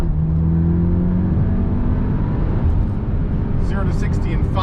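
A Volkswagen Golf R fitted with Neuspeed parts launches hard from about 4,000 RPM, its engine roaring loud and close with a rising drone through the gears, and a voice speaks over it near the end.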